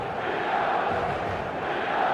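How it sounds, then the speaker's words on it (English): eFootball stadium crowd: a dense, steady roar of a full stadium crowd, continuous and moderately loud, with a faint chant-like tone running through it. "The stadium is full of noise and energy."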